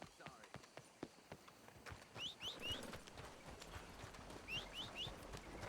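Horse hooves clip-clop in the Red Dead Redemption 2 game world, a rhythm of hoofbeats with a few faint whinnies, under someone talking.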